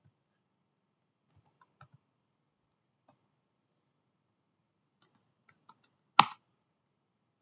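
Code is typed on a computer keyboard in a quiet room, with sparse soft key taps and one sharp, louder keystroke near the end.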